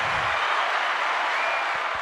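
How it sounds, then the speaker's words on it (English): Quiet, dense clapping from a crowd, a soft continuous patter of many hands with no distinct individual claps, steady throughout. "It's like the quiet clap."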